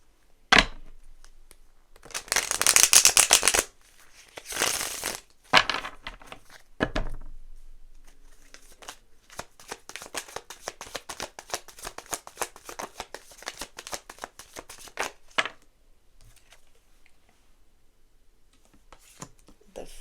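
A deck of tarot cards being shuffled close by, with several loud riffling bursts early on followed by a long stretch of rapid, steady card flicks that trail off into quiet near the end.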